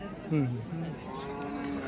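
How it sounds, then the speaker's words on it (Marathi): Buffaloes at the Nalegaon buffalo market in Latur, including a Nagpuri-breed buffalo bull, with a low bovine moo rising briefly over a busy market background. "नळेगावच्या बाजारात हलगट आले रेडा नागपुरी जातीचा रेडा आहे"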